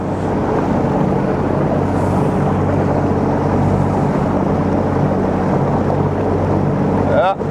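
A self-built motorboat runs under steady engine power while turning to starboard, a loud continuous droning rumble with wind buffeting the microphone throughout.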